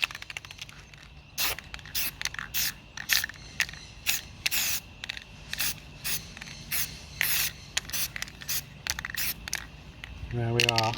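Black spray paint going onto a template laid over a panel while repairing a Mk2 Escort parcel shelf: a dozen or so short hissing bursts in a rough rhythm, close and fairly loud, each break holding a faint rattle of the can.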